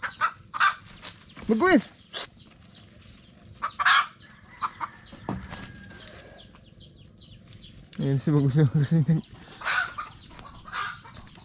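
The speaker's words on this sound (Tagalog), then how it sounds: "Galit na galit yung manok ko." An agitated rooster named Bagus clucks and squawks in loud bursts at a farmyard, with sharp calls and a rapid clucking run near the end, while someone talks between the calls.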